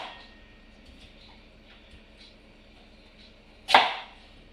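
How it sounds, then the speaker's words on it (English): After a quiet stretch, a single sharp knife chop through a scallop strikes a cutting board, close and crisp. "I'm chopping, cutting the scallop like this."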